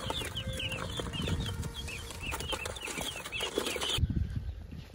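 Young guinea fowl chicks and chickens, in a setting with poultry kept in boxes, chirp and cheep in a dense, overlapping chorus. Brief flutters and clucks sound close by throughout.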